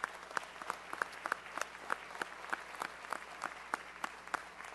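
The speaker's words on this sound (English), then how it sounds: "Let's give them all a big round of applause." Applause from the audience at a city council meeting honoring firefighters, sparse and fairly quiet, with distinct individual claps standing out in an uneven rhythm for several seconds.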